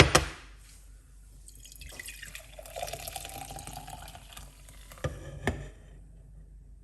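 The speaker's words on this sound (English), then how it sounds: "All right, pour it out." Ginger, beetroot, lime and clove juice is poured out in a quiet trickling stream with a few faint drips and light clinks, alone and close.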